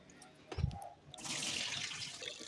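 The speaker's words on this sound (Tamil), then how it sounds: "போட்டுட்டு அதை நல்லா ஒரு 3 தட்டி வாஷ் பண்ணிக்கலாம்" Toor dal lentils are washed with water in a pressure cooker: a low thump, then a steady, fairly close rush of running water that lasts to the end.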